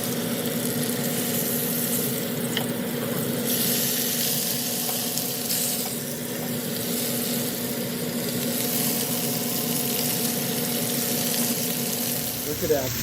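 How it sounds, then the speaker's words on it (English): A steady, close sizzle of Sheepshead fish frying in a hot pan of coconut curry, hissing continuously with faint clatter, no talking. "So adding our tasty fish in here."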